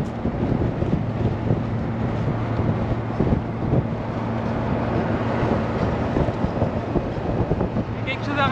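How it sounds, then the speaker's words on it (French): Steady wind buffets and roars around an open-top Golf 1 cabriolet on the road, a broad continuous rush with a low engine hum underneath, and people talking through it. "il y a pas mal de vent."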